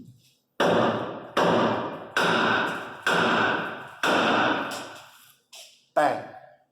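A heavy hammer strikes a car's ball joint repeatedly to knock it loose without a pickle fork, five loud, evenly spaced metallic bangs with ringing decay, followed by a couple of quicker, sharper hits.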